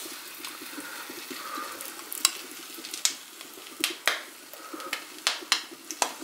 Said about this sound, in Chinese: 我们先要翻炒一下那个咸蛋黄酱，把这个蛋黄酱舀入炒锅中。